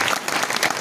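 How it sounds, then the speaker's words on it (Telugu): Loud, dense applause from a crowd at a Lalitha Sahasranama recitation gathering in Ibrahimpatnam, Jagtial district, steady clapping throughout with no pauses. "గట్టిగా చప్పట్లు కొట్టండి."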